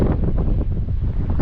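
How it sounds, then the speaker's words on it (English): Strong wind on a jetty on the Oregon coast buffets the microphone in a constant loud roar, rumbling and gusting without a break. "Then it turned into this windy stuff"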